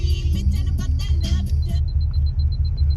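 A car engine idles with a steady low rhythmic rumble throughout, and speech runs over it for the first part before a faint repeating high chirp takes over.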